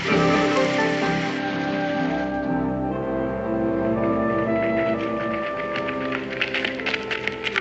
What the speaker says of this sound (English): It's raining. I mean, certainly it's raining.